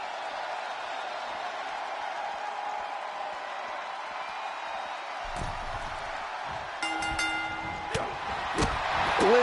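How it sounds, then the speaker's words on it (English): A wrestling arena crowd in a WWE video game gives off a continuous, moderately loud cheering roar, with sharper clanks and ringing tones breaking in near the end. "listen to this crowd."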